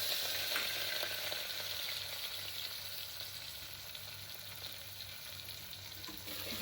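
Mustard seeds, asafoetida and a beetroot masala mixture frying in a pan, giving a quiet, steady sizzle that fades slightly over time, close by with no talk.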